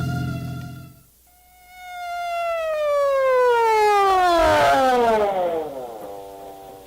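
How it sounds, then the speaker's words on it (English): Old siren in a vintage horror radio drama, a long wailing tone that rises in, then slides steadily downward and fades, heard alone and fairly loud. "So why this siren?"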